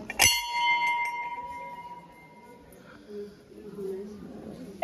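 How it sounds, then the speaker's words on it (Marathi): A temple bell at the Narmada temple is struck once loudly and close, its bright metallic ring decaying over a couple of seconds, followed by quieter murmuring voices and shuffling and a final clank. "घंटा"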